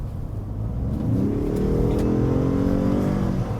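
A 2021 Ford F-150 PowerBoost hybrid truck accelerates hard, its engine note rising steadily and holding strong, loud and close with no talking.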